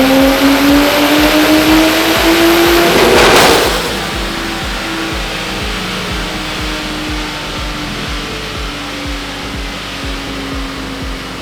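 A Nissan Skyline with an RB20 engine and an aftermarket Maxpeedingrods turbo runs on a dyno, the engine note climbing steadily in pitch, then a sharp burst as revs drop to a loud, steady drone.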